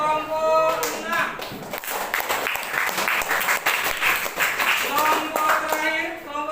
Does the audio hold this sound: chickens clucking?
no